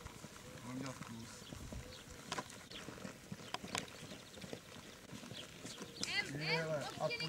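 Horse hooves clip-clop at a steady walking rhythm in a riding arena during a lesson, with a person talking over them and some louder movement near the end.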